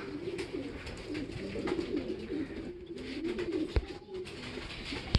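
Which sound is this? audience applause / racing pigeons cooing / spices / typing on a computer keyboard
racing pigeons cooing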